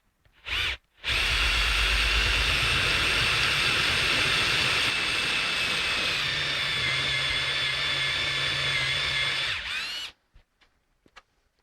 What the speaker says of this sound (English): we got the hole drilled with the 7/16.